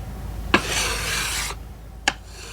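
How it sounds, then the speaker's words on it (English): Gesso layers on a carved Spanish sculpture smoothed by hand-rubbing, a soft close scraping stroke lasting about a second, bracketed by two sharp little taps, then a short brush of friction. "After the yeso grueso and yeso mate was applied, they would be smoothed"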